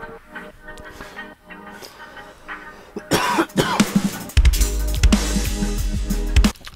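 A few coughs ring out close by over electronic music with pulsing beats and cymbal hits that grow louder partway through.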